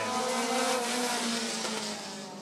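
Race cars roaring off together at a green-flag start in a Bandit Dash at Rockford Speedway: a dense, steady wall of engine noise from the pack that fades slightly toward the end.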